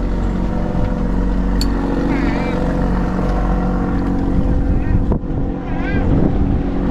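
A small outboard motor drives a fishing boat trolling for salmon, its steady close engine drone humming continuously with wind buffeting the microphone and faint voices now and then.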